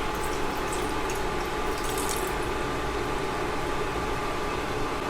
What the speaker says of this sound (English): Here I am going to add 1 cup of vinegar.